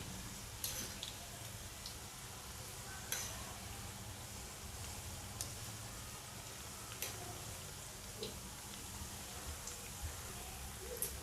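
Small jackfruit bhaji fritters fry in oil over medium flame, a quiet steady bubbling sizzle broken by a few light clicks and taps as the pieces are turned, with no talking.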